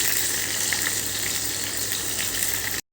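Peanuts and spices fry in hot oil with a dense, steady sizzle that stays loud and unbroken before cutting off abruptly at the end.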